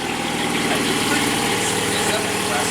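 A Lamborghini engine heard from outside the car makes a loud, steady, rumbling roar that holds at an even level throughout and stays close, with no clear rise or fall.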